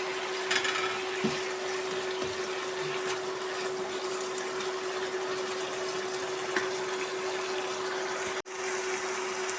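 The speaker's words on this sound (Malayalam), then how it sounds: "ഇതിനകത്തേക്ക് പുളിവെള്ളമാണ് ഒഴിക്കുന്നത്" Tamarind water poured into a thickened green chilli curry, a steady broad liquid pour with a constant background hum, continuous for several seconds with a brief cut near the end.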